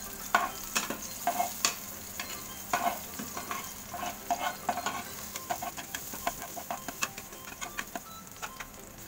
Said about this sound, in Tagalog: Pag medyo brown na yung garlic, susunod na natin yung sibuyas.